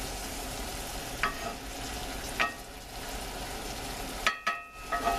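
Garlic searing in a pan for beef stroganoff, heard as a steady close hiss of frying with a few bright spoon taps and scrapes scattered through it and a brief clatter near the end, with no talking.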